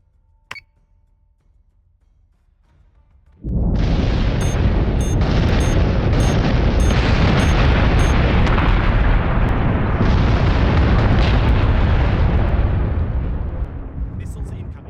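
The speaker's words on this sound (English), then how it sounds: "Salvo launch ready." Missile salvo launch and explosions in a naval video game: after a quiet start, a sudden loud, sustained roaring barrage of rocket fire and booms that continues until the end, with rapid repeated bursts on top.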